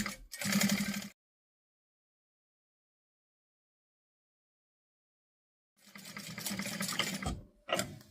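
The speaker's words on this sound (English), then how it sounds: "I'm top stitching at about 1/8 of an inch." A sewing machine top stitches fabric about 1/8 inch from the edge, whirring in two close, loud bursts separated by several seconds of silence.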